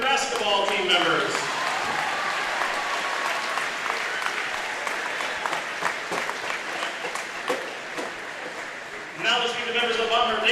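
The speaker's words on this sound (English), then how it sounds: "Let's give a big round of applause for the senior basketball team members." Crowd applause at a high school basketball game honoring senior team members, a sustained broad wash of clapping from a gym audience lasting most of the stretch, with a voice talking over the public address at the start and end.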